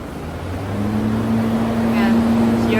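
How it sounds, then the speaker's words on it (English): A 10HP industrial chiller runs with its compressor and two exhaust fans, making a steady mechanical drone with a clear humming tone that swells slightly at the start and then holds level. "And hear the noise, it means that the chiller is working."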